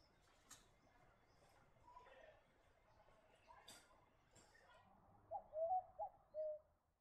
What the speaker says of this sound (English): The Teresian imperial pigeon is found near coastal areas of the top end.